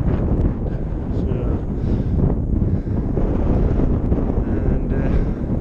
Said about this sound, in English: I'm not sure you'll be able to hear us with the wind up here at the moment.